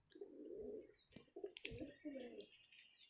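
A small desi pigeon coos in several soft, throaty phrases close by, with a brief chirp and a little rustling between calls.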